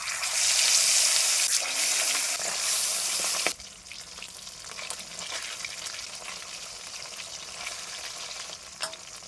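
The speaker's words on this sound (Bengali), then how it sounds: "এবার আর একটু তেল দিয়ে পাবদা মাছগুলো ভেজে নেব।" Pabda fish frying in oil: loud, dense sizzling for the first few seconds, then dropping to a softer, steady crackle with occasional pops, with no voices.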